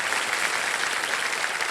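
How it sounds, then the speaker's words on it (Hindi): Loud, dense applause from a studio audience on the KBC game show, a steady, even roar of many hands clapping close up, with no voices standing out. "इनका जोरदार तालियों के साथ हम अभिनंदन करना चाह रहे हैं।"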